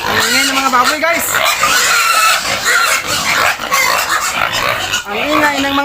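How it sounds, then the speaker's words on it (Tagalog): Young pigs on a farm, about four weeks old and on starter feed, squeal and oink loudly and almost without pause in a dense, noisy chorus, with a voice talking over them. "Ang ingay ng mga baboy, guys."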